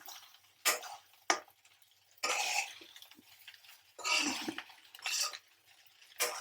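Egg fried rice being stirred in a pan, with a few separate bursts of scraping and clattering spaced apart over a quiet background, fairly close and no voices.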